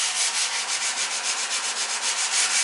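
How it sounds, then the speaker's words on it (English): Steady abrasive scratching of sanding joint compound on a wall surface, rhythmic back-and-forth strokes, close and continuous with no voices. "sanding down the wall and stuff"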